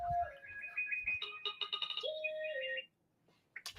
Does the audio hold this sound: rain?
no